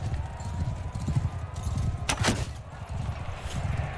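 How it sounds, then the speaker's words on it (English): Horses clip-clopping in a Mount & Blade 2 Bannerlord battle, many hooves drumming steadily at a moderate distance, with a brief sharp burst midway and no talking. "It would help if there weren't quite so many flipping horses running around"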